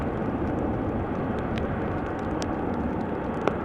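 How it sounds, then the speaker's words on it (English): A KLM Embraer 190 jet at Amsterdam Schiphol Airport, heading toward the runway threshold in showery weather, producing a continuous rumbling engine roar at an even level. "So this is an Embraer 190 from KLM going to Graz"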